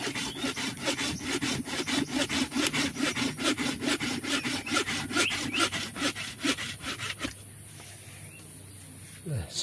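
A tree branch being sawn off by hand, loud close rhythmic rasping strokes at a steady brisk pace that stop partway, leaving quieter background.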